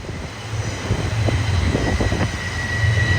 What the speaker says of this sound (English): Here is an oil train going into a tunnel designed to protect the rail line from avalanches and snow slides.